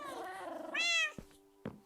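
Cats meowing in the Minecraft video game, a drawn-out meow rising into a bright whiny cry, followed by two short clicks, close and clear with no talking.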